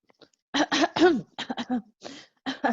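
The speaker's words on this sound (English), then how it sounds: "don't cough" A person coughs in a quick series of sharp, throaty bursts, clustered close together, up close and with nothing else in between.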